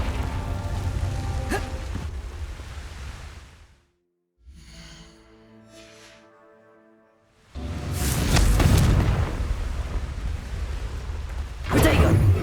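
Confringo blast spell explosions in Hogwarts Legacy burst loud and broadband, one crashing in after a quiet stretch and another near the end, over a noisy backdrop of game ambience.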